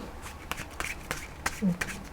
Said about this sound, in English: let's shuffle the cards up real good.